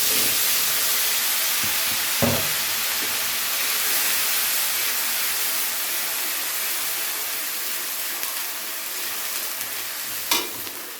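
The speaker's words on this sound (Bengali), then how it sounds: "তো পেঁয়াজটাকে আমাদের ততক্ষণ ভেজে নিতে হবে যতক্ষণে না পেঁয়াজের কাঁচা গন্ধটা চলে যাচ্ছে আর পেঁয়াজটা একটু হালকা বাদামি হয়ে যাচ্ছে।" Onion paste sizzles and fries steadily in hot spiced oil for egg curry, a continuous close hiss with a couple of brief clinks of a utensil against the pan.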